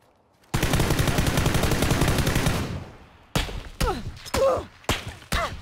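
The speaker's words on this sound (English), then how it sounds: "Is that suppressed shots from you, Pacey?" Bursts of video game gunfire: a long sustained rapid-fire volley of about two seconds, then after a short pause five sharp separate shot bursts in quick succession, loud and close.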